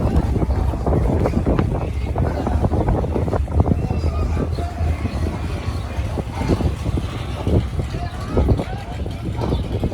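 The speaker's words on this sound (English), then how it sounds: "It's windy, can you tell?" Strong gusty wind roars across the microphone outdoors at a car show, a constant low rumble of buffeting with brief louder bursts, while people talk faintly underneath.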